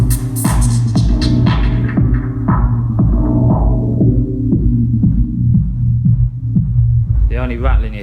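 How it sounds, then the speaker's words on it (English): Rane MP2014 rotary DJ mixer with its low pass filter swept down from the top, a looping beat with steady bass thumps whose brightness steadily drains away until only a muffled low throb remains, then opens back up. "if you put it to the low pass filter"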